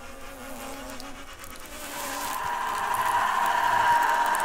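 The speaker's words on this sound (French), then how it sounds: "Bizarre, une mouche." A fly buzzes close by with a steady droning whine that grows louder and more intense partway through.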